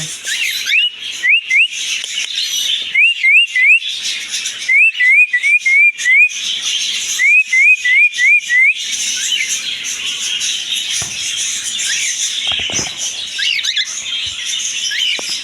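Cockatiels in a pet shop give repeated rising whistles and chirps in quick bursts, loud and close, over a constant bright chatter of other caged birds.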